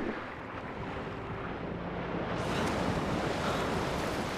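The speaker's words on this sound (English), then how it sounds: "the waves are so cool in this game" Ocean waves roll and wash steadily in the video game Horizon Forbidden West, a loud continuous surf mixed with gusting wind and no voices.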